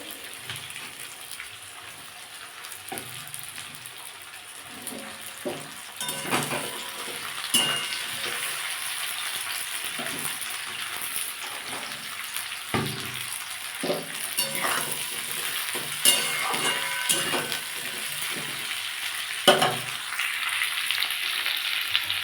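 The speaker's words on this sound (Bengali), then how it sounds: "এবার আমি এর মধ্যে সিমগুলো দিয়ে দেবো সিমগুলো দিয়ে একটু ভেজে নেবো" Flat beans frying with onion in a pan give a steady close sizzle with repeated scraping and stirring knocks throughout, no voices.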